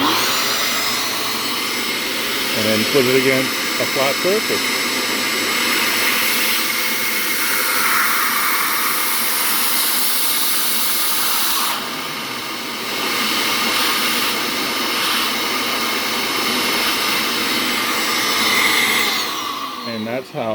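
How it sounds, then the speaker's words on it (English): A vacuum runs through a mini-CNC attachment on a Vevor 3018 Pro, a loud steady whine and rush with a brief dip in pitch and a change in tone as the nozzle nears a surface, while someone talks over it. "turn on the vacuum"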